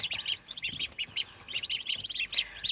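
Brown turkey poults on a home farmstead chirp in quick, high repeated peeps, several chicks overlapping in short bursts, close and fairly quiet with no talk.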